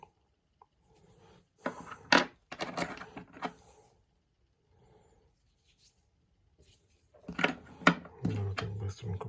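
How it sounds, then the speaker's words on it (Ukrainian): A pile of old tsarist coins handled by hand, giving bursts of clinking and rattling metal in two clusters separated by a quiet stretch, fairly close and moderately loud. "така скуча монет царських"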